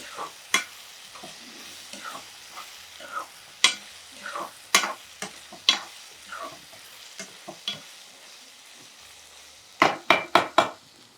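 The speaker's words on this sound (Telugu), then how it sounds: "ఆ ఎండ్రాయిలు కూడా అందులో వేసేసి కొంచెం వేగాలి" Dried prawns are stir-fried in a pan, heard as a string of close, irregular spatula scrapes and soft sizzles, ending in a quick burst of several sharp strokes.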